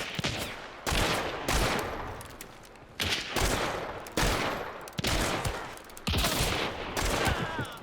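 Bursts of gunfire from two opposing players in the Hunt: Showdown shooter game, sharp repeated shots arriving in clusters with short pauses between volleys, fairly loud and close with no talk over them.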